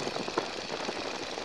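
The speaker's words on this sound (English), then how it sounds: "just to keep that engine warm." A Stearman biplane's engine runs at low power in the landing pattern on a cool day, a steady rough drone heard from inside the aircraft with no speech.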